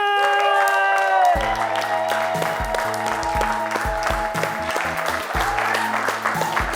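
A studio audience applauds and cheers as talk show guest Nelly Agbogu arrives, a steady wash of clapping with scattered whoops under an upbeat music bed.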